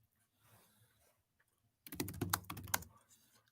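A burst of rapid keystrokes on a computer keyboard rattles in a quick, close cluster of clicks for about a second after a quiet pause, with faint background noise before it.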